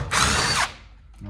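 A power drill spins out a bolt from a cracked garage door hinge, a loud, close half-second whir that cuts off abruptly, then quiet with a brief light clatter.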